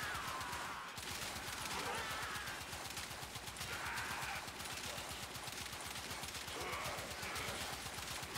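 Knell Prime in Warframe firing in automatic mode, a rapid, steady stream of gunshots that runs without a break for several seconds.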